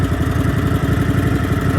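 An old Craftsman GT 5000 lawn tractor engine idles with a quick, even chugging pulse, close and steady across the short stretch.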